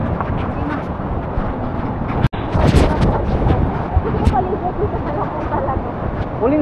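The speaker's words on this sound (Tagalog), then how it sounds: "Napakalakas ang hangin." Strong wind roars steadily across the microphone at Aw-asen Falls, a loud broadband rush with gusts and one brief dropout, while people speak over it.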